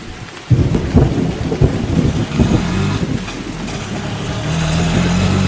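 Heavy rain pours down steadily, with deep rumbles of thunder rolling through a storm; loud and continuous with no talking.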